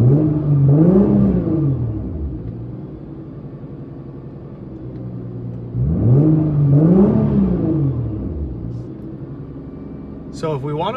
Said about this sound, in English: I'm gonna go ahead and put it into neutral so I can free rev it.